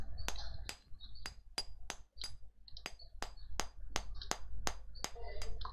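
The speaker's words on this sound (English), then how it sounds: "let's use the hammer and chisel to weaken the boulder." Hammer striking a chisel against a boulder in the video game Pillars of Eternity, a steady series of about a dozen sharp metallic clinks with short ringing tails, evenly spaced and close.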